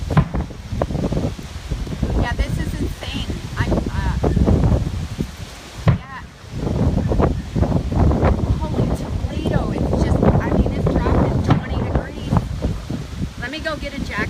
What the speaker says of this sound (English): And the wind is going nuts.